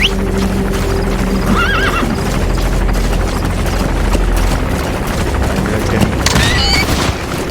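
A horse in Metal Gear Solid 5 whinnies twice, with loud hoofbeats, booms and gunfire around it and a constant low rumble underneath.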